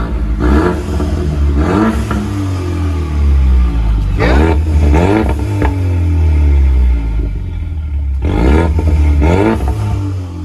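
A loud, straight-piped Ford Mustang V8 with an X-pipe and no mufflers barks through several hard revs, each rising and falling back to a heavy, rumbling idle, recorded up close.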